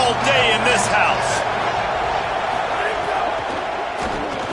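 Stadium crowd in the College Football 27 video game roars as a broad, sustained wash of cheering, loudest early and easing slightly, with a commentator talking over it.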